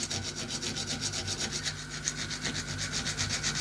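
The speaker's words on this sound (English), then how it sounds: "just using needle files, it's going to clean out that rounded corner" Needle files rasp back and forth to clean out a rounded corner in a DIY steampunk clock part. The strokes are quick and rhythmic and repeat steadily up close, with no talking.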